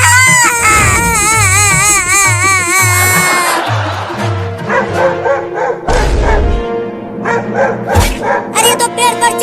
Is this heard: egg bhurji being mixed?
no